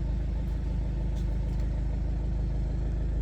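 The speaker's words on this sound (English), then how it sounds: "We'll start the car up, so it's keyless start" A 2014 BMW 118D M Sport 2.0 diesel, started by keyless start, settles into a low steady idle rumble, close and even throughout.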